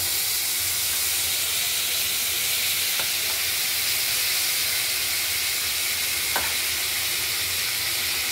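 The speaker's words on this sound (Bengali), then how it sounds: "এবার আলুগুলোকে আমরা ভেজে নেব।" Potatoes fry in oil for a Bengali fish curry, a loud, steady broadband sizzle and hiss close up, with two brief clinks of stirring and no voices.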